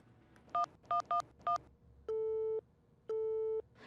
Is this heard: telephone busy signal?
yes